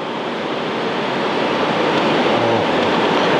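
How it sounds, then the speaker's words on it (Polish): Strong north wind sweeping over a sea shore during flounder fishing, with steady broadband roar of surf and gusts, loud and continuous with no pauses and no speech. "Ciężko dzisiaj jest, bo mamy dość silny wiatr północny."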